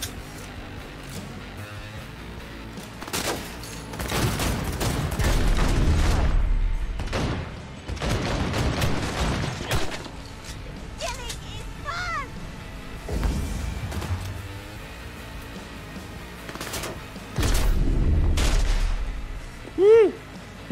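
Heavy gunfire aimed at the player in Cyberpunk 2077 on Xbox Series X comes in several loud bursts with booming thuds, separated by quieter gaps and lighter scattered shots.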